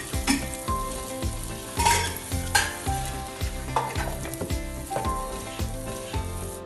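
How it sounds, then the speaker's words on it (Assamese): Onions fry in a pan with a constant sizzle while a utensil stirs and scrapes in a steady rhythm, the repeated strokes loud and close, with occasional clinks against the pan. "পিঁয়াজখিনি অলপ সময় ভাজিব লাগিব।"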